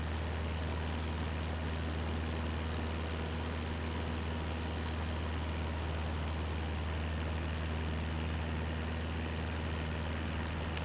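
A Cessna 172 propeller engine in Microsoft Flight Simulator 2024 drones at a constant steady hum, low and even in tone, heard quietly throughout with no talking.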